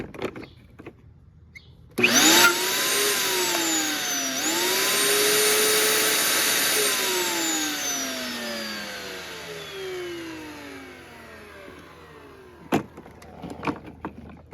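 A Ryobi plug-in electric lawnmower with a blade that won't turn switches on abruptly, its electric motor whining loudly and steadily for about ten seconds with pitch sweeps, then cutting off, followed by scattered clunks and handling noises.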